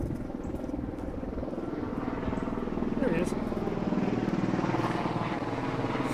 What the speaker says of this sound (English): So that's Vice President Pence's helicopter